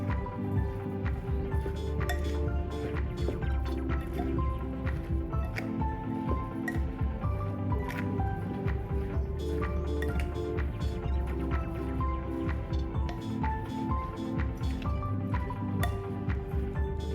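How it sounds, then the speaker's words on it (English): A spoon stirs tomato salsa dip with white vinegar in a bowl, giving steady wet squishing with frequent small clinks against the dish, continuous and close, with no talk. "Give it a mix."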